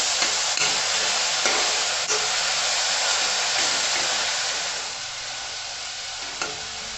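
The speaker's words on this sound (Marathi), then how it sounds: "हिरवी मिरची आलं लसूण जे पेस्ट केलेली आहे ना, तर हे आपण आता ह्यात घालूया। हे फ्राय करून घेऊया चांगलं" A paste of green chilli, ginger and garlic frying loudly and steadily in a pan, with occasional spatula clicks. The sizzle eases a little toward the end.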